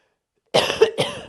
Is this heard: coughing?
yes